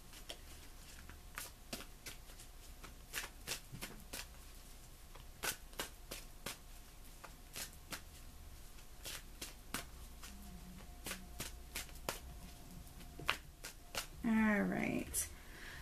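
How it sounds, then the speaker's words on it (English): Tarot cards are shuffled by hand, giving a steady run of sharp, close flicks and riffling snaps with soft rustling between them, ending in a brief burst of quick card flutter. "Cards are flipping."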